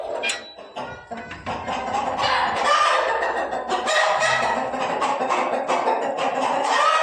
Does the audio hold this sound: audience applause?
no